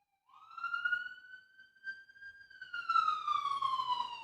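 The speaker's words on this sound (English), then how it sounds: "I hope the ambulance is coming to pick Goldcat up and not me." An ambulance siren wails faintly from outside in a slow rising and falling tone, drifting past at a distance and growing slightly stronger toward the end.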